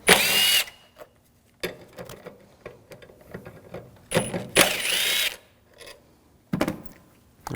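A 10mm socket drives out the airbox bolts on a 2007-2013 BMW 328i with the 3.0L inline-six, giving loud bursts of power-tool whirring and ratcheting, with quieter clicks and handling noises in the pauses between bursts.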